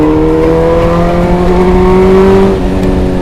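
600cc motorcycle ridden on an open road, a loud, steady engine drone with clear rising tones as it pulls, up close and continuous.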